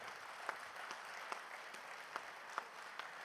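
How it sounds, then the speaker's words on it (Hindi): Faint applause from a Rotary district conference audience for the district governor, a soft distant patter with a few sharper individual claps standing out. "जोरदार ताली हम सबको बजानी चाहिए"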